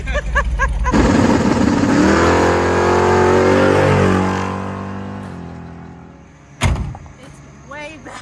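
A 1978 Chevrolet Malibu G-body launches hard on a street, its engine roaring loud and close for several seconds before fading, followed by a sharp thump and faint voices.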